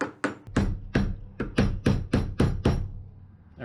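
Hammer tapping a sharp punch into metal on a VW Super Beetle, about nine crisp metallic strikes in a steady rhythm, close and alone.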